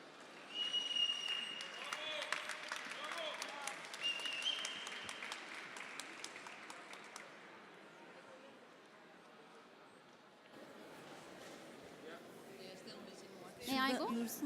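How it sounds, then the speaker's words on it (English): Audience applause and crowd noise for a Turkish team at a CPR competition during a resuscitation conference, steady clapping across the room that gradually thins, with some talk mixed in. "Please give them a big round of applause."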